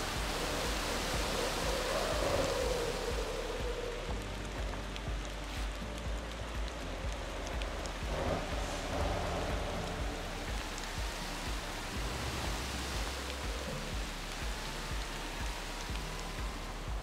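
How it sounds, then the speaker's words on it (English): Steady rain hiss in the driving game Motor Town: Behind The Wheel, a constant broadband wash of drops on surfaces holding even and fairly loud throughout, with no talk over it. "Stupid rain."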